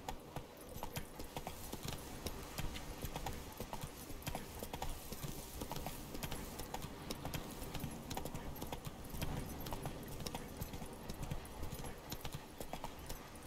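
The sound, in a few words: horse Roach galloping, The Witcher 3 video game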